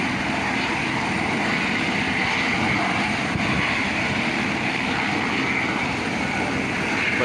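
A helicopter taking off near the Great Barrier Reef in Australia makes a steady, loud engine and rotor roar that stays constant and close throughout, with no voices.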